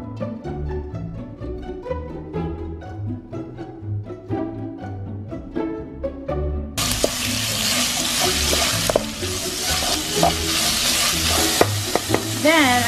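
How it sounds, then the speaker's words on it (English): Sautéing in a pan for a roasted tomato sauce: rhythmic utensil clinks and scrapes at first, then a loud, dense hissing sizzle takes over as food hits the hot pan. "just going to saute it with the roasted tomatoes"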